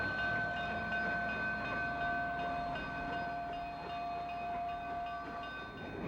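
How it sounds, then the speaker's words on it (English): Steam engine 2466 passes Mission Bay Tower hauling a southbound commuter train, a steady rumble of rolling cars under a long sustained whistle tone, moderately distant and without talk. "Engine 2466 breezes by the Mission Bay Tower with a southbound commuter train."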